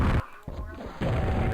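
Gunshot in a Unity-built shooter striking the ground with splash damage, two loud broadband bursts, one opening the moment and another about a second later, with a quieter rumble between.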